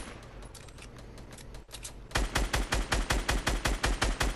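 Fortnite gunfire, starting as lighter scattered shots, then switching to a loud, evenly spaced rapid string of close shots in steady rhythm.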